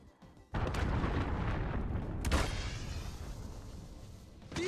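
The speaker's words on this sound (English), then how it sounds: "Allied cruise missile on the way." Call of Duty Black Ops 3 cruise missile strike: a sudden loud blast followed by a second explosion and a long rumbling roar of debris and fire, close and heavy.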